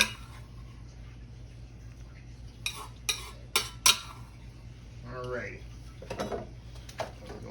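Rigatoni sauce ladled from a pot: a few sharp metal clinks of the ladle against the pot, followed by soft wet sloshing and scraping as the sauce is poured and spread, with a voice heard faintly.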